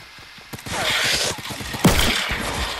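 Quick bursts of Fortnite gunfire pop and crack over busy game noise, a rapid cluster of close shots followed by a louder sharp blast near the end.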